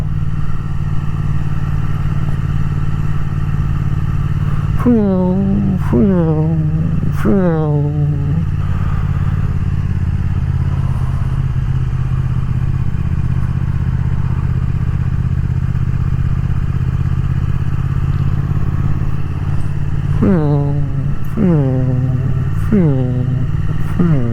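A Triumph Thruxton RS motorcycle engine drones steadily while riding, with two bursts of sharp rising-and-dropping revs as it moves through gears, loud and close under constant wind rumble.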